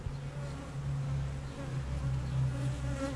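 Worker honey bees at the hive, a continuous close, droning buzz with a low hum that swells and fades slightly as individual bees pass, no voices heard.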